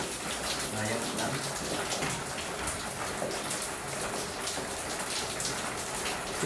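Rain falls steadily outdoors, a continuous hiss of drops on surfaces at even, moderate loudness, while a voice talks faintly underneath.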